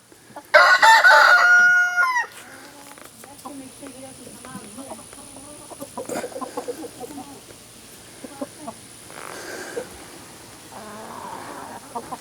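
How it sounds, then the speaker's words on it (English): A rooster crows loudly up close, then hens and the rooster cluck and murmur through the rest of a flock where a new rooster is being introduced, with a person speaking briefly in between. "Come on, Rooster"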